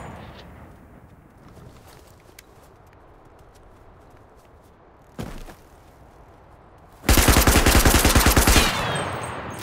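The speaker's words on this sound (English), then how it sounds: "That dude had a flipping MG42." Bursts of MG42 machine gun fire in the video game CRSED: F.O.A.D., a loud rapid rattling volley near the end after a quieter stretch with a single sharp shot, no talking.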